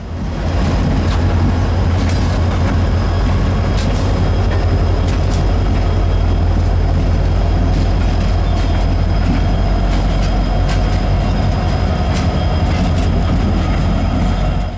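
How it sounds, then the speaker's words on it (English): A CSX freight train with GE ES44AH locomotives shoves slowly into the Raleigh yard in snow, with a deep steady locomotive rumble, rolling wheel noise and scattered metallic clanks and squeals, close and loud throughout. "The crew of this morning's L619 was now running 620 as they shoved onto what is now a pure train for the Raleigh yard"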